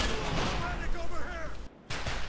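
Slow-firing HK21 and RPK machine guns in Black Ops, a steady stream of gunfire bursts with a rapid rhythmic crackle, cut by a brief silent gap before firing resumes.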